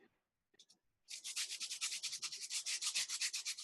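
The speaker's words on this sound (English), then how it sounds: "take a sanding disc, either a flat piece of paper, and you can wipe it across that" Rapid rhythmic strokes of a sanding disc rubbed back and forth across a Christmas ornament ball, close and fairly quiet, after a short scrape and a pause.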